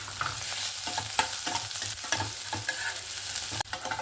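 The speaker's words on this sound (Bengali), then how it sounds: "রসুন আর কাঁচা লঙ্কাগুলো সুন্দরভাবে ভাজা হয়ে গেছে" Crushed garlic, slit green chillies, cumin and bay leaves fry in hot mustard oil with a steady close sizzle, punctuated by repeated spoon scrapes and stirs against the pan, with no talking.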